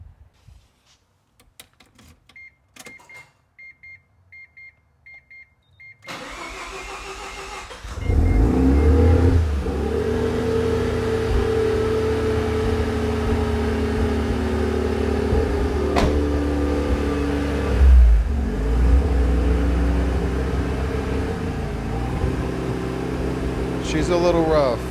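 Mazda RX-7 FD rotary engine cranking and catching after a few quiet seconds, then running loud and steady with a rough, uneven idle and occasional revs, close up throughout.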